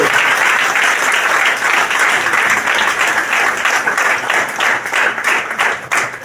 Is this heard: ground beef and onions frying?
no